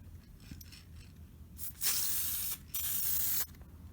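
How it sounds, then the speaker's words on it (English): Two sustained bursts of aerosol activator spray hiss, close and loud, separated by a short pause, after a quiet stretch with faint handling sounds. "I'm going to spray on the activator, and it should turn to very clear."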